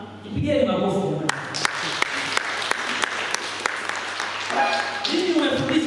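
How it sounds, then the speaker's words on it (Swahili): Audience applause at a talk, a sustained burst of clapping with sharp individual claps standing out, bracketed by someone speaking before and after. "Ipigeni makofi jamani."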